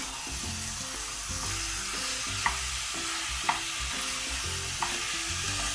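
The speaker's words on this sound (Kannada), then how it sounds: "ಈಗ ಮಟನನ್ನು ಒಂದು 2 to 3 ಮಿನಿಟ್ಸ್ ಹೈ ಫ್ಲೇಮಲ್ಲಿ ಫ್ರೈ ಮಾಡುವ." Mutton with turmeric fries on a high flame as it is stirred: a loud, constant sizzle over a low hum, with three spaced clinks from the stirring utensil.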